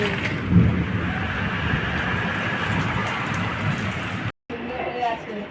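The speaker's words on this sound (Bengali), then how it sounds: "অন্ধকার হয়ে গেছে দেখো, কি জোরে বৃষ্টি নেমেছে।" Heavy rain roars steadily close by, a dense wash of noise with a brief dropout near the end before it resumes.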